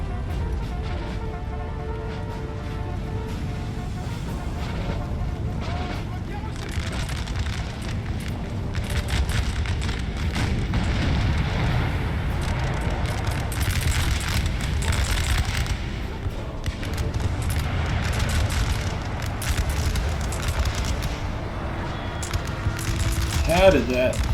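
Artillery fire booms and crackles in a Napoleon: Total War battle, a dense, continuous stream of distant thuds and bursts layered into a steady, noisy rumble.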